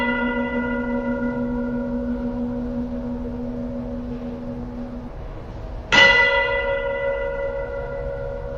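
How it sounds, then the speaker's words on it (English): Church bells chime with a long sustained tone, then a fresh bell strike near the middle rings out loud and decays slowly, its overtones hanging in the air. "testing the frequency of the church bells chiming"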